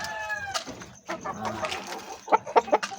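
Gamecocks cluck nearby in short, uneven bursts, with a few sharper calls near the end against quiet farmyard background.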